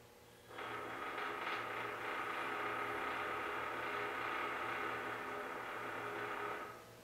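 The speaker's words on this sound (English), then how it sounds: "This crane sounds like it's like from like a real scary movie when I lower it down slow." A crane on a long-travel suspension build being lowered slowly, giving a steady, sustained creaking and groaning drone that holds for about six seconds at moderate level, with no talking.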